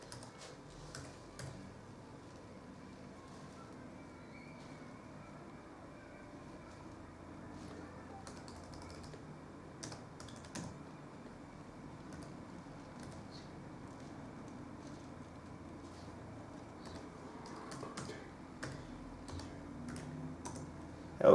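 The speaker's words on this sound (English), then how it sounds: "I'm going to type in the password." Someone types a password on a computer keyboard. Soft, close key taps come in irregular bursts over quiet room noise for about twenty seconds, with no talking.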